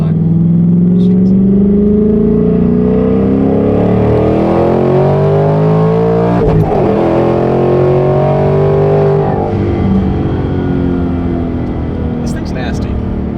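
A twin-turbo S650 Mustang rips through a first-gear pull with wheelspin, the loud exhaust note climbing and then rising again after a short break, with voices talking over it close by.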